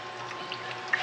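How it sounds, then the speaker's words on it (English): Fuel drains through from an old tractor long parked, a steady faint trickle and liquid flow at close range with a small splash near the end. "So I'm gonna let most of that kind of drain through"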